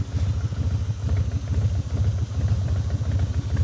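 A 2000 Harley-Davidson Softail Standard fitted with 12-inch mini ape hangers idles close by, its engine giving a steady, lumpy, rhythmic thump that carries on without pause and with no one talking.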